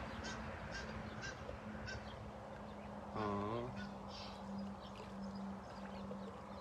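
Egyptian geese honk while flying in to land, a short burst of stacked nasal calls rising above a steady low outdoor hum, with faint chirps and distant sounds around it.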